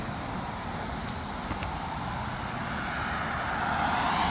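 Traffic on a four-lane road by a scenic tourist stop makes a steady, broad roar of passing cars that swells slightly toward the end, with no voices.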